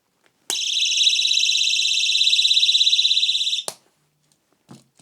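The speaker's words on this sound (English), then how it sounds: "If you're doing the emergency alarm, it can be in any whether lock or unlock, and you just pull it." A pull-pin personal emergency alarm shrieks with a loud, steady high-pitched tone for about three seconds, then cuts off abruptly, leaving near silence with a few small clicks.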